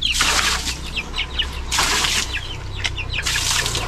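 Chickens cluck and peep close by, with a few loud bursts of wing flapping breaking in; no one speaks.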